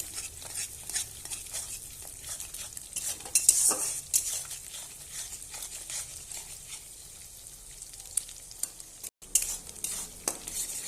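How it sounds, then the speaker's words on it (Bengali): Eggs with salt frying in a pan, stirred with a utensil that scrapes and clinks against the metal over a soft, steady sizzle, fairly quiet and close. "তো এবার আমি ডিম দিয়ে দেব। লবণও দিয়ে দেব, দিয়ে একটু নেড়ে দেবো ভালোভাবে।"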